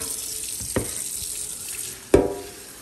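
Water from a kitchen tap runs into a pot of cut petite red potatoes, with two sharp clanks of the pot and a steady background rush of running water.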